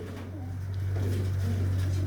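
A tournament-breed racing pigeon in a breeder's loft coos in a low, steady, drawn-out hum, close and continuous, swelling slightly in loudness.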